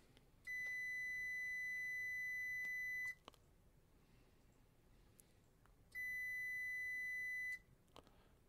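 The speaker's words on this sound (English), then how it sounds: "Let's turn that beeper off and see if you can hear it." Two steady electronic beeps from a continuity tester checking a pressure switch, each a pure tone lasting a few seconds with a quiet gap between, clear and close with faint clicks around them.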